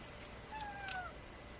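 A house cat gives a short, faint meow with a rising then falling pitch in a quiet indoor room.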